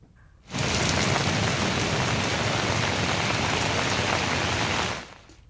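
Heavy monsoon downpour pouring over a Gujarat town, a dense, steady roar of rain that swells in abruptly, holds loud and even for about four seconds, then cuts away.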